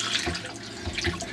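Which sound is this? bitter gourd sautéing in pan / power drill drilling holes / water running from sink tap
water running from sink tap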